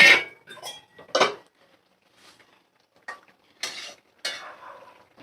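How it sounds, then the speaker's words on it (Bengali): Fried fish pieces go into a bubbling fish curry (macher jhol) with papaya and potato, and a spoon scrapes and clatters against the pan in several short bursts separated by quiet pauses. "এবার ভাজা মাছগুলো আমি দিয়ে দেব।"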